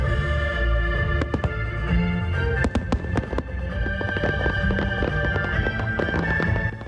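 Fireworks bursting over a Chiayi National Day celebration at night, with repeated sharp cracks and booms layered over a continuous rumbling crackle, dense and loud throughout.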